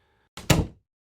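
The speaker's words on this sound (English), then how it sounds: "he shut the door quickly" A door shut quickly gives one firm thunk with a short slam, loud and close, then silence.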